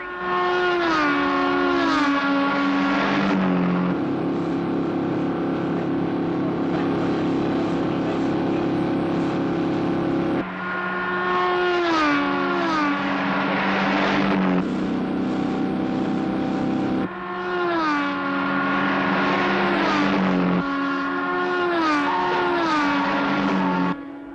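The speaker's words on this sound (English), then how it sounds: "Tracy and Webster are coming round into the last lap. Tracy is still leading" Engines roar steadily and loudly through a televised race on the last lap at Parola Sands, their pitch sweeping in repeated waves as the cars pass, with a voice heard along with the engine noise.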